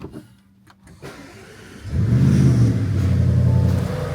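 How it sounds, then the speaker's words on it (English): An Audi RS6 Performance V8 engine cranks and catches on a cold start, settling into a low, steady rumble that stays moderately loud and close. "Kind of a subdued rumble, not crazy loud on cold start"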